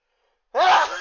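A single sharp sneeze bursts out close to the mic after half a second of silence, short and loud, during a tabletop role-playing game session.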